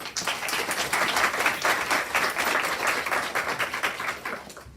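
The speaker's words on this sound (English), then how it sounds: "If everyone could please give a round of applause for Mandy Easters" An audience at a National Honor Society induction ceremony applauds their chapter president, a dense, steady wash of many hands clapping at close range that holds for several seconds, then thins slightly toward the end.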